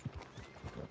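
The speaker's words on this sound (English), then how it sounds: "Are you gonna mount that new horse of yours or not?" Horse hooves clip-clop in a PS4 video game, a faint, quick run of rhythmic hoof steps over soft game ambience.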